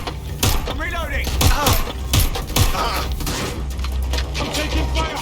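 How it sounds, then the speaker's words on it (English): Gunfire in a Watch Dogs Legion firefight, with loud, repeated sharp shots and thuds in irregular bursts against a dense game soundscape, close and busy throughout. "I'm taking fire!"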